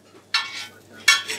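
A paratha cooks in Amul butter on a hot griddle, with two short, bright bursts of scraping sizzle close up against a quiet background.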